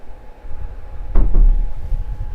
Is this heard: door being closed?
yes